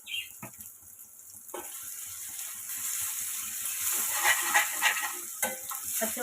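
Ginger-garlic paste with turmeric frying in a pan for a chicken and drumstick curry, a soft steady sizzle building in loudness with occasional stirring scrapes, close and without talk.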